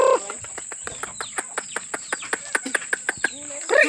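A chicken clucks in a quick, steady run of about fifteen short, evenly spaced clucks, close by and fairly loud.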